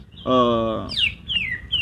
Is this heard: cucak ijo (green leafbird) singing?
yes